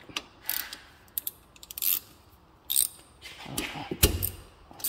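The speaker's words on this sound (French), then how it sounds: "Et on a les deux vis à desserrer." Ratchet loosening the two brake caliper screws on a 1998 Peugeot 306 XTDT with an ATE caliper, several quick bursts of close, crisp clicking with short pauses between strokes, no talk.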